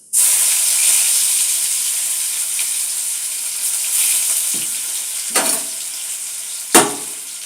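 Crushed garlic drops into hot oil with dried red chillies, bursting into an abrupt, loud sizzle that hisses on steadily, broken by a few sharp scraping stirs near the end.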